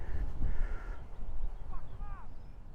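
Harsh, chattering magpie calls ring out over steady wind or outdoor rumble, a few rasping notes followed by fainter squeaky ones.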